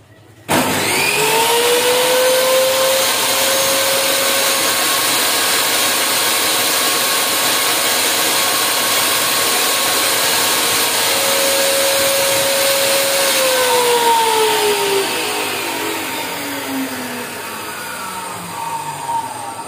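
Ryu RTS10 table saw switches on with a sharp start, its motor spinning up to a steady, loud whine that holds for about thirteen seconds, then slowly winds down as the blade coasts to a stop.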